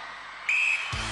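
A single sharp, high-pitched whistle blast starting an event on the 1995 UK Gladiators TV show, lasting about a quarter second, clear and fairly close, followed by a low thump.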